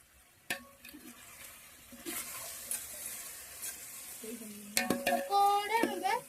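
Chicken pieces frying for a chicken biryani, with soft sizzling and stirring scrapes, a few clinks of a pan, and a louder burst of stirring and bubbling near the end.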